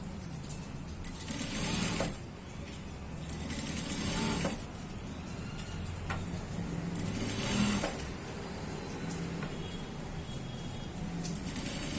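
A sewing machine stitching a round neckline seam on a medical uniform runs in several short bursts with pauses between them, whirring close by over a low background hum, with no voices.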